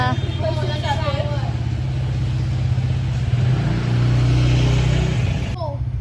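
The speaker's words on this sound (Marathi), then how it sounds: "आमची ड्रायव्हर गाडी काढते गाडी चालवते आता" A car being driven, with a steady low engine drone and road hum heard from inside the cabin, running continuously under loud voices.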